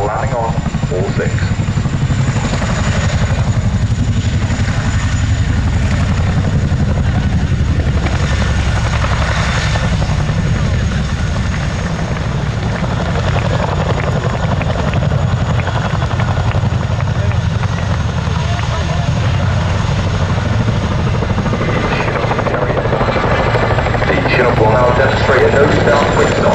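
A military aircraft hovers and maneuvers close by with a loud, continuous rotor and engine roar, making a nose-down quick stop on two aft wheels before settling onto all six, with a narrator talking over it.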